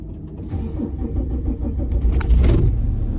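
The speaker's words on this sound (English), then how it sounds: "It's quite slow to start, this car." A Volvo 850 diesel engine cranks sluggishly with a labouring starter motor, then catches and rises into a rough rumble near the end, heard up close with no talk.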